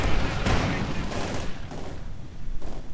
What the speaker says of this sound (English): Bit of incendiary artillery